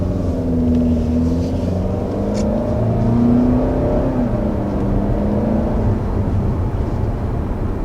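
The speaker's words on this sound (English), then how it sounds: "we're first taking off here in this 2020 Nissan Altima" A 2020 Nissan Altima AWD with a 2.5-liter naturally aspirated four-cylinder pulls away, its steady engine drone rising gently in pitch as it accelerates. The sound is heard from inside the car, continuous and moderately loud, with no talking.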